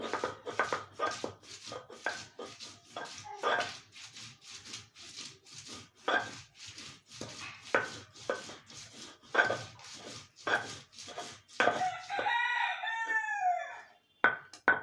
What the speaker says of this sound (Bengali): আমি পেঁয়াজটা একটু বেটে নিব